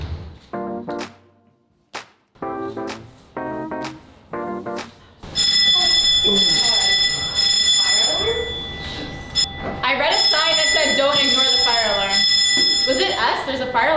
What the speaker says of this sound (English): there's a fire alarm like right there.